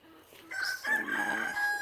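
Backyard chickens in a Texas garden, with a rooster's drawn-out crow rising over close clucking and fowl noise in a short, steady burst.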